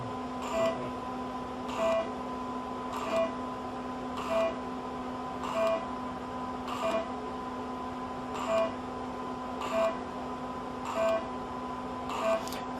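A diode laser hair removal device fires in a regular rhythm, about one short click-and-beep pulse per second over a steady electronic hum, indoors and fairly quiet.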